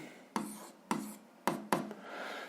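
A marker or chalk writes out an algebra solution on a board, with four sharp, distinct strokes spaced about half a second apart, each fading into a soft scratch, up close.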